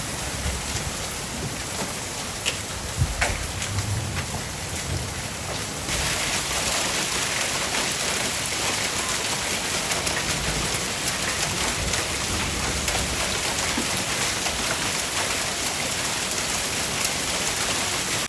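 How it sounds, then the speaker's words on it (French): Heavy rain and hail from a thunderstorm pour steadily on a surface, a dense hiss that grows louder partway through and holds; no thunder stands out clearly. "de retour juste à temps avant cet orage de malade. Grêle et tout"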